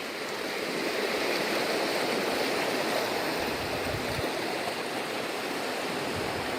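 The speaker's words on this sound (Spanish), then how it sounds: "Viene una ola suavecita y llega hasta tus pies." Sea waves wash continuously onto a beach, a broad, steady hiss of surf that stays loud and even with no pauses, and no voices.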